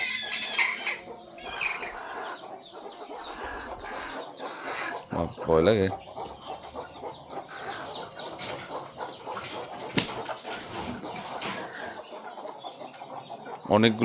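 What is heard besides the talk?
chickens clucking in cages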